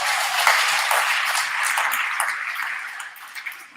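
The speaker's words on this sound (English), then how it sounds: "And please clap for her." Audience at a women's leadership academy event applauds, a crowd of hands clapping steadily and fairly close, slowly thinning and fading toward the end with a few scattered claps left.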